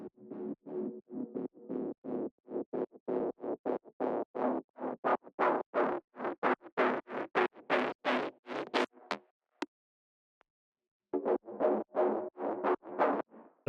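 An FM synth patch with its effects switched off plays a rapid train of short, bright, metallic clangs that speeds up and rises, breaks off with a brief gap, then resumes. No voices are heard.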